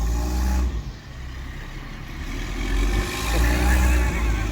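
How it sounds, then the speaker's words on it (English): A 1936 T20 crawler dozer engine runs at full throttle with its magnetos fully advanced. It makes a steady, loud, rough drone that swells toward the end, with no pauses. "we're gonna go for our first little cruise in the T20"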